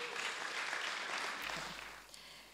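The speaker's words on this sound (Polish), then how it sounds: "Wielkie brawa dla niej." An audience at a Gdańsk blogging forum applauds a speaker, with dense, steady clapping from a large crowd that fades slightly toward the end, heard at a moderate distance without talk.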